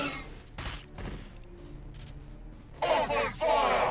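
Heavy fire-support gunfire in the strategy game Warhammer 40,000: Battlesector, with sharp blasts up front and then a loud, sustained barrage of overlapping shots in the closing second, all fairly close.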